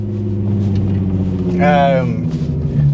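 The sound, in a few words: Nissan Skyline R32 driving fast over the moors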